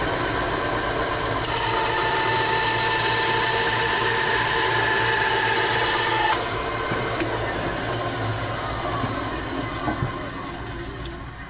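A bandsaw runs steadily with a sustained whine and hum, the blade working through wood, continuous and loud before trailing off at the end.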